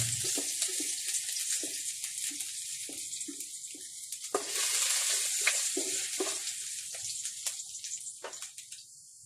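Chopped ginger sautéing in a pan, giving a steady, close hiss and sizzle with small crackles and a brief swell in the middle, and no voices.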